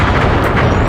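A loud, dense blast roars through a Sly 3: Honor Among Thieves game scene as a gravestone is destroyed by a focused power attack, a continuous explosive rumble filling the whole moment.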